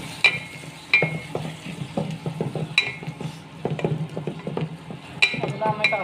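Green chilies sautéing in a pan, a continuous sizzle broken by repeated sharp clinks and scrapes of a utensil against the metal, close and fairly loud.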